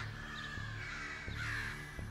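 Crows caw in short harsh calls, a few repeated cries at moderate distance over a low steady hum, with no people talking.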